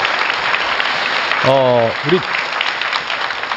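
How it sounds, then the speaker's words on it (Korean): A studio audience at a Korean TV special about Seosan city applauds in a steady wash of clapping, while a voice briefly speaks over it partway through. "다시 한번 박수 좀 부탁드리겠습니다."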